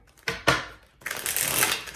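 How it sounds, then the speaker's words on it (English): Tarot deck shuffled close by: two quick slapping riffles, then a longer crackling cascade as the cards run together, with no talking. "Let's go ahead and get ourselves one last shuffle"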